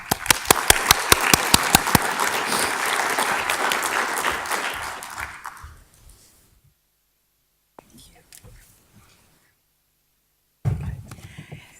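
Audience applause at a symposium session, dense and loud for about six seconds as a speaker is welcomed to the podium, then fading into near silence with a few faint shuffles before a brief thump.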